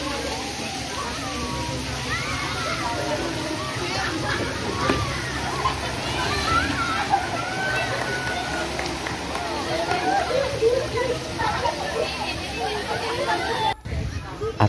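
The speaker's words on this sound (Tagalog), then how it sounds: "Tara, ating silipin kung gaano talaga ka-enjoy kung mag-slide ka dito sa kanilang napakahabang slide dito." Water rushing down a long waterpark slide at Port Royale resort in Dumaguete, a continuous sloshing, splashing wash with crowd chatter and a voice talking over it.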